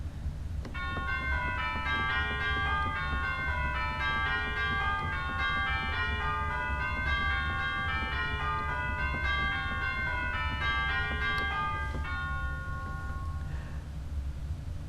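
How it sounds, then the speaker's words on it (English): Church organ chimes on a Casavant organ ring out in a clear, bell-like melody of repeated struck tones over a low sustained hum, fading at the end. "The chimes, very effective for weddings or at Christmas time."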